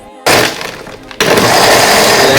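Kitchen blender whirring through a protein shake of protein powder, water, a pinch of salt and chocolate peanut butter, starting abruptly, then dipping and surging louder as the blades churn near and loud.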